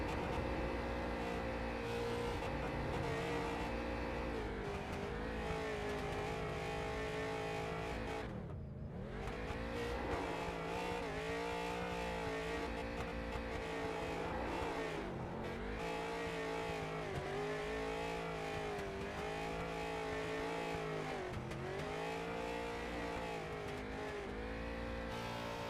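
An online racing sim race car at North Wilkesboro does a burnout on the front straight, its engine revving hard and steadily with repeated pitch swoops and tire squeal throughout.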